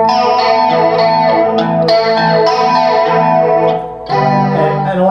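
An electric guitar runs through a flanger effect pedal, its sustained chords swirling and shimmering much like a chorus, loud and close, with a brief dip before a fresh chord rings out.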